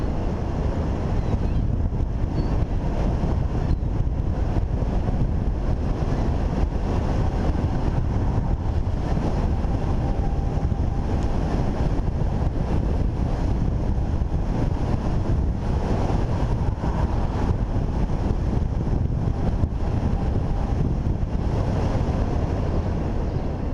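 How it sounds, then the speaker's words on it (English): Steady broadband wind rush buffets the microphone while riding a nearly silent Golden Motor Black Magic electric motorcycle, with no audible motor whine, just continuous airflow noise throughout. "There's virtually no sound. I don't hear anything, just the wind."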